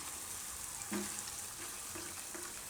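Raw banana gravy simmers in oil in a pan, giving a steady soft sizzle and bubbling throughout with a few light stirring scrapes, close and fairly quiet, with no talking.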